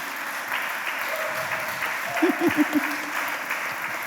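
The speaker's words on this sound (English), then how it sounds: "I just want to ask for the last big round of applause for our panelists" Applause rises from the audience at the close of a public panel discussion, a soft, distant wash of clapping with a few short voiced sounds briefly poking through.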